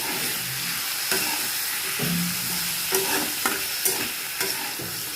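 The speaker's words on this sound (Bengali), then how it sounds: "একটু নেড়ে নিই।" Spoon stirring vegetable curry in a frying pan, a steady sizzle throughout with several sharp scrapes and knocks of the utensil against the pan, close and fairly loud with no talking.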